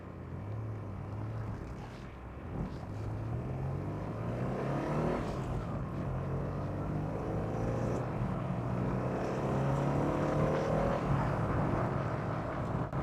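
Aston Martin Tickford-built Ford turbo car on fixed 15-inch Pepper Pot wheels, driving with a steady engine drone and rising harmonics as it pulls with old-school turbo response, close and continuous without talk.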